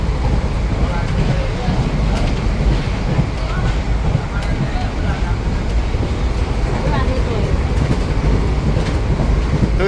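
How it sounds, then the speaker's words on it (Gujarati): A passenger train travels at night toward Ahmedabad, heard from inside a carriage beside an open window: a continuous loud, low rumble of wheels on rails with wind buffeting. "ટ્રેન શરૂ થઈ ગઈ છે."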